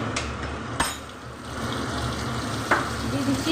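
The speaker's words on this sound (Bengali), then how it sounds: "এবার ওই মাছ ভাজা তেলের মধ্যে দিয়ে দিচ্ছি আমি একটু কালো জিরে" Nigella seeds dropped into hot leftover fish-frying oil in a pan, a steady sizzle with a couple of sharp clinks of a utensil against the pan.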